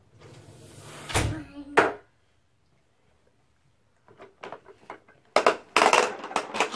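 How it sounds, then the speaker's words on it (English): A door is shut with a couple of solid thunks early on, loud and close in an indoor room where makeup is being done. Quiet follows, then later bumps and rustling. "Close the door."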